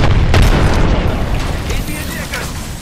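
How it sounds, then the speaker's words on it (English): A grenade blast in the Apex Legends shooter lands loud and close, a deep boom with a rumbling tail that fades over a few seconds, while game noise continues underneath. "Oh shit, that's a grenade."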